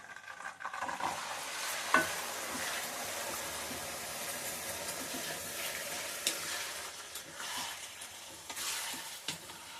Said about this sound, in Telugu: వేడైనాక ఈ చికెన్ని డైరెక్ట్గా నూనెలోనే వేయించుకోవాలి